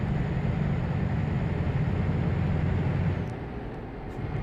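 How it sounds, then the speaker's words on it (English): A truck rumbles past on a road outside Malmö, a steady loud low roar that eases off toward the end, with a few faint clicks, heard alone. "And the other truck is there."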